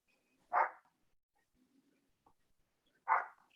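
A dog barks twice, short and fairly faint, several seconds apart, heard indoors against a quiet background with no talking.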